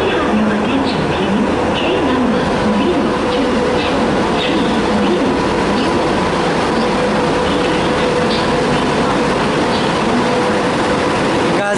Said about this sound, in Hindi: ट्रेन आता है तो मैं दिखाता हूँ इसका अराइवल।